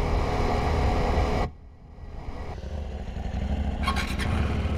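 A motorcycle rides a soft dirt road, its engine first a loud steady drone, then cutting off abruptly to a quieter rumble that slowly builds again, with a brief rattle near the end.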